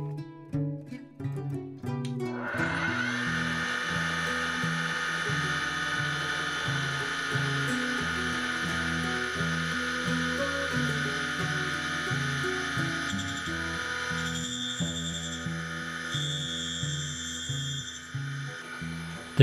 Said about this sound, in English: The drill bit is fed in until it's just touching the grinding wheel.